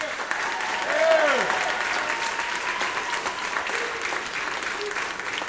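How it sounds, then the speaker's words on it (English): Audience applause for a high school band at a fall band concert, a steady wash of clapping throughout with some speech-like sounds and whistles mixed in, swelling slightly near the start. "We give them one more round of applause."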